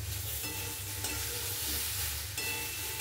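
Spices fry in a pan with a constant bright sizzle, and a spoon stirs and scrapes through them in rhythmic strokes. No one speaks.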